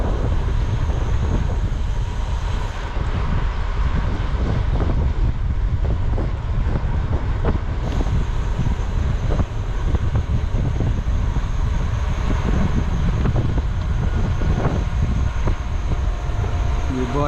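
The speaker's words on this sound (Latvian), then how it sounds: "Vējš iepūš labi mugurā." Steady wind rushes hard across the microphone during a long-distance bicycle ride on a Latvian road, a loud continuous roar with gusty buffeting throughout.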